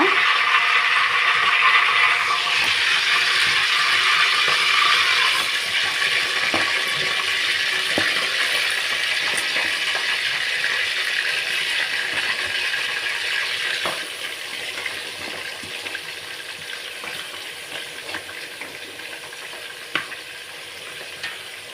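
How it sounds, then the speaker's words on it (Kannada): Mutton pieces dropped into hot oil in a pan for mutton sambar set off a bright, loud sizzle that settles into a steady, softer frying hiss with occasional stirring clinks. "ಎಣ್ಣೆ ಕಾಯ್ತಿದೆ ಇವಾಗ ಇದಕ್ಕೆ ಮಟನ್ ಹಾಕ್ಕೊಳ್ಳೋಣ"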